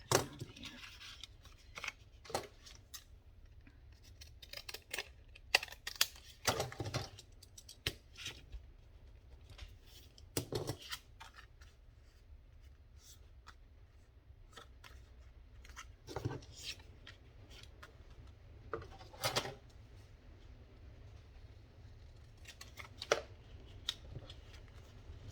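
Quiet, close scissors snip and slice in short, irregular bursts separated by pauses, with soft handling rustles in between.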